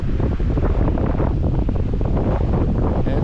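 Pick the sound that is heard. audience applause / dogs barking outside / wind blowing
wind blowing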